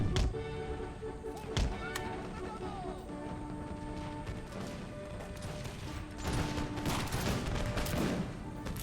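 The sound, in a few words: musket gunfire in video game Empire Total War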